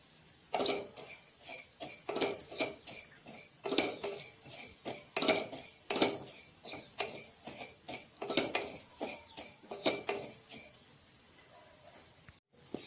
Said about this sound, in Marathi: त्याच्यासाठी जिरे आणि पांढरे तीळ घेतलेलं आहे ते चांगलं आपण भाजून घेऊया.